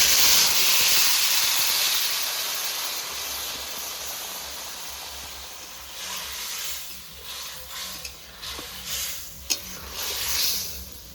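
Water poured into a pan of frying fish curry with bitter gourd for shol fish jhol; a loud hissing burst of steam and sizzle at the start fades into softer bubbling, with a few utensil clicks near the end.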